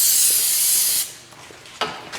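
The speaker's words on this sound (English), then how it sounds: "Spray it down with some brake clean." Brake cleaner sprays in a strong, close hiss for about a second onto a brake rotor on a 2003-2007 Honda Accord, followed by a few shorter, fainter spurts.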